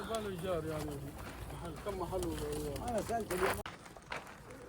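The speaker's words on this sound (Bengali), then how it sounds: "সামনে অনেকগুলো কবুতর।" Pigeons coo from a flock near a small resting spot at the summit of Jabal Thawr mountain in Mecca. A voice talks steadily over the soft cooing for most of the stretch.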